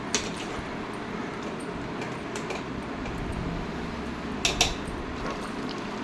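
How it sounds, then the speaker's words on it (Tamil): A spoon stirs murungakai thokku, drumstick pickle with chili powder and a little water, in a pan on the stove. Soft, steady scraping runs throughout, with a few faint clicks near the end. "நல்லா கிளறி விட்டுக்கலாம்."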